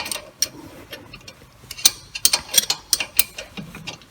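A ratchet wrench works a front brake caliper bolt held with thread locker on a new Lada Vesta during a brake pad change, giving close, sharp, irregular clicking bursts with short pauses and no talk.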